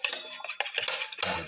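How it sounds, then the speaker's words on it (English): Egg yolks and whites are whisked together in a bowl, giving quick irregular clinks and scrapes of a utensil against the dish in a close, busy burst with no talking. "Mix the yellow and the white portion of the eggs together."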